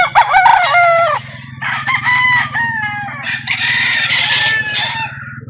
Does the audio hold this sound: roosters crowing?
yes